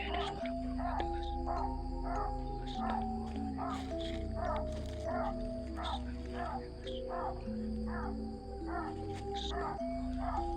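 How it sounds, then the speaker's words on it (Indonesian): Birds call repeatedly in a forest, a series of short sharp chirps at a steady irregular rhythm, moderately near, over a low background hum, with occasional quiet voices. "Segini ada suara burung itu"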